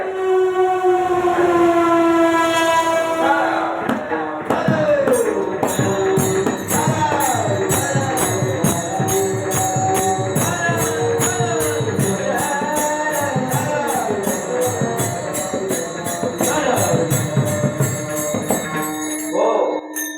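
A train rolls past during a devotional kirtan at a village railway station, its horn and siren-like tones sounding loudly over singing and harmonium-like music for about twenty seconds.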